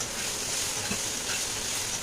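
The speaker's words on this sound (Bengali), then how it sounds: "এই দেখো শাকটা এবার নেড়ে নেড়ে ভাজা করে নেবো" Leafy greens stir-fried in a pan give a soft, steady sizzle with faint scraping as they are moved about, quiet and continuous with no voices.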